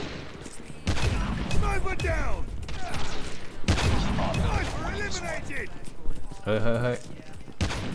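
Gunfire in the Call of Duty Mobile game on a Halloween map, with rapid bursts of shots repeating across the clip and a player talking excitedly over them.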